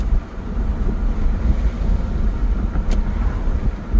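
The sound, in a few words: 2002 Acura TL Type S accelerating and shifting gears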